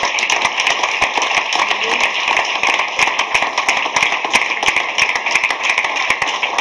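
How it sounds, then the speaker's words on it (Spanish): A church congregation applauds with loud, dense clapping, many sharp overlapping claps rattling at close range in a sustained burst, with no speech over it. "Dale un fuerte aplauso al Señor."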